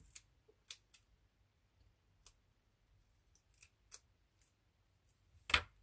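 Scissors snipping craft material in a quiet room, a series of sharp, scattered snips at irregular intervals, the last one the loudest and closest.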